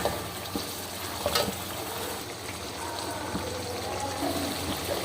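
Chicken liver frying in a pan with yogurt and spices, a steady close sizzle with occasional stirring scrapes and clinks throughout.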